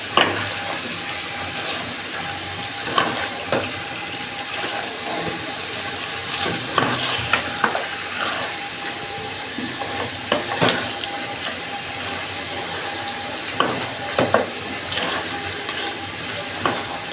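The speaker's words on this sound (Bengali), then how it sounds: "নেড়ে চেড়ে মাংসটা ভালো করে কষিয়ে নিব" Desi chicken pieces being stirred and fried in a pan, giving a continuous, fairly loud frying hiss broken by intermittent spatula scrapes and knocks, with no voices.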